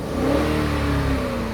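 A car engine revs up, its steady drone climbing in pitch and holding high, loud and close, with no voices; the car's steering suddenly locked while driving.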